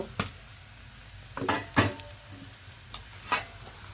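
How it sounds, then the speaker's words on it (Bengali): Turmeric, cumin and spice masala frying and being stirred in a pan, with scattered scraping stirs and utensil knocks over a faint, steady sizzle. "হলুদের গুঁড়ো দিয়ে মশলাটা সুন্দর করে কষিয়ে নেব"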